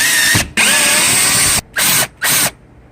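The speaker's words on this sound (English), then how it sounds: "Then you remove your screws." A power driver whirs in several short bursts while backing Torx screws out of a BMW E38 sunroof slide cover, loud and close, with brief pauses between runs.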